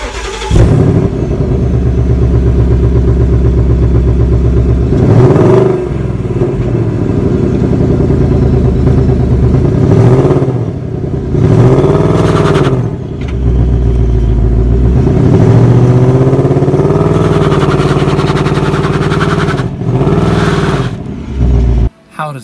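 A 2019 Ford Mustang GT V8 growls loudly up close, idling with a rough burble and then revved in several sharp rising-and-falling bursts that swell and drop back, repeated about four or five times.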